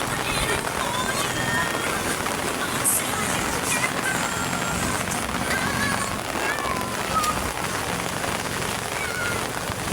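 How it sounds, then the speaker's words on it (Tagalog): Steady, dense rain hiss fills a seaside pier without a break, with a faint murmur of distant voices and activity mixed underneath. "sayang nga lang ulan"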